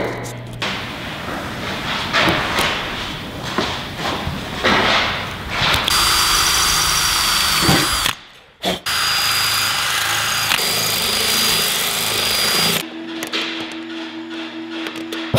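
A power drill whirs in two long, loud bursts, with a short pause between, after a stretch of scraping and handling noises.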